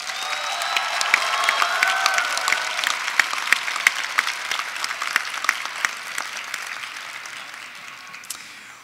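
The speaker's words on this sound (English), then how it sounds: "give them a round of applause as well" A large graduation audience at the University of Louisville gives sustained applause, dense at first and then thinning into scattered individual claps toward the end.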